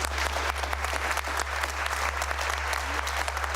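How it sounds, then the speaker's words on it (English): A studio audience at a televised UK election debate claps in dense, steady applause for the whole stretch, fairly loud, with a low electrical hum beneath and no clear talk. "Why are you clapping that absolute non-entity of an answer?"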